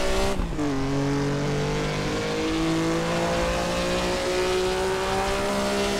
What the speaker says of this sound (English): Again, locking up the rear wheels with the engine braking,